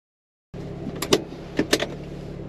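Roof lock latches on a Daihatsu Copen roadster are released, two pairs of sharp mechanical clicks over a low idling hum inside the car.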